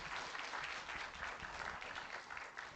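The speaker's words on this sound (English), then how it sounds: "a big round of applause for our fantastic panel" A summit audience on climate governance claps for a panel, a dense and steady wash of many hands, moderately distant and fairly quiet, with no voices standing out.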